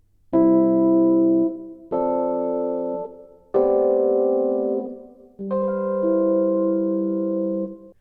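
Four sustained synth chords played on an Ableton Push 2, in sequence, each held about a second and a half with brief gaps between, clean and steady, no voices.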